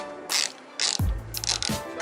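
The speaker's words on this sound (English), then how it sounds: "we're gonna take our 10mm and we're gonna remove this bolt right here." A 10mm ratchet loosens a bolt on a BMW E92/E93 during tail light work, giving quick close clicking bursts and a short mechanical thunk between strokes.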